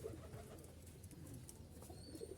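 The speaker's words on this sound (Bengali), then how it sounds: "দেখবেন এটা মাদি কবুতর, দেখেন কত সুন্দর একটা মাদি কবুতর" Jalali pigeons cooing in a loft of domestic birds, a steady close chorus of soft rolling coos with no talk, plus a few faint higher chirps near the end.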